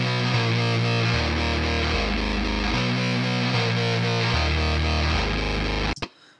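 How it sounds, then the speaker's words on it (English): A gritty, heavily distorted synth line pulses through a repeating pattern with deep bass notes, then cuts off abruptly near the end; distortion from an Ableton effects rack. "we're now getting the gritty distortion sound"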